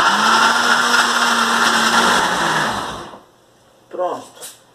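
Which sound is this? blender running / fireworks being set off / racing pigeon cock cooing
blender running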